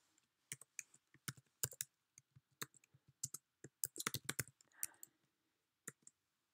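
Crisp clicks of a computer keyboard as Python commands are typed, irregular bursts of keystrokes close up with short pauses between them.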